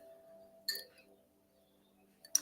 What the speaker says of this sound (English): You can go grab a glass of water if you'd like.